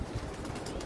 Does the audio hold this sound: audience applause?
no